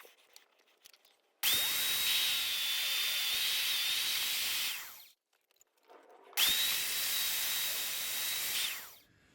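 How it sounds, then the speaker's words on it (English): A power drill bores a hole through a metal plate in two long, loud bursts with a steady high whine, separated by a short quiet pause, with no talking. "hole's now drilled"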